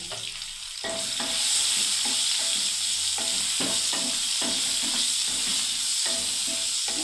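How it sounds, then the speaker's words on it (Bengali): Pointed gourd fries in a pan with turmeric and salt, a steady loud sizzle broken by repeated scraping knocks of a spoon as the pieces are stirred. "পটলগুলোকে এবারে নাড়তে থাকবো।"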